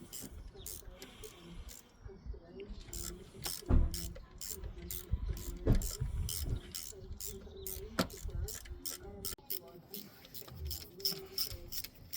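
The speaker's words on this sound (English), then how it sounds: "So I've got an M10 bolt here undoing the rocker cover." A ratchet undoing an M10 rocker cover bolt on a 2004 (54 plate) Ford Fiesta gives bursts of quick, close metallic clicks in irregular runs, with short pauses between strokes.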